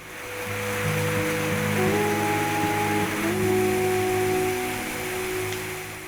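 Continuous rushing water of the Mount Nebo cascade and waterfall in Arkansas, loud and steady, with a faint tonal hum running underneath.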